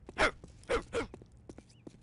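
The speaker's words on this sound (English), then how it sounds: "I love the very realistic bark noises of a guy definitely just going hum into a microphone" Dog barks in the Postal 2 video game, voiced by a man humming into a microphone: three short, close, voiced bursts in quick succession, followed by a few fainter clicks and noises.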